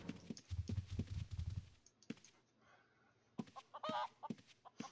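A golden chicken in the video game Ultima Online gives a few clucks and squawks among scattered game effects and hoof-like clopping, the sounds arriving in short bursts with quieter gaps between them.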